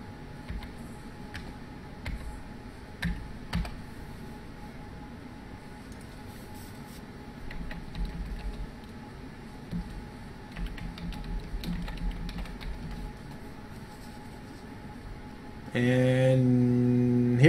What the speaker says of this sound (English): I'm going to type this out.